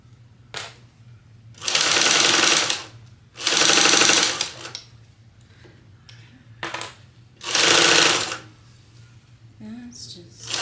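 A sewing machine bastes fabric for a fringe clutch bag in three loud, close bursts of rapid stitching, with quieter clicks and pauses between them and a voice speaking briefly.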